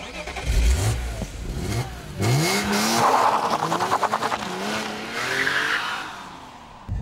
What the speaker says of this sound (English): this car is all about the potency of that straight six engine